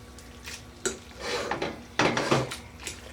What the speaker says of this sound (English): So I'm just going to mix it in with my fork.